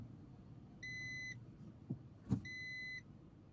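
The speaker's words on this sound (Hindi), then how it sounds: "ये आवाज़ हुआ, टू करके जो बीप हुआ, इसका मतलब रिवर्स एंगेज हो गया" A car's parking sensor gives two clear electronic beeps on engaging reverse gear, each a steady half-second tone, separated by a couple of soft clicks over a low idling engine hum.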